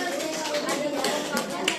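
A group of classmates in an Indonesian school session clapping together, a dense even patter of hand claps at moderate volume that continues steadily without pause.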